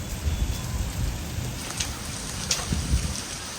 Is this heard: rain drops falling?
yes